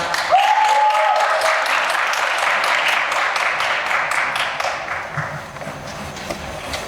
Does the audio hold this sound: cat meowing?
no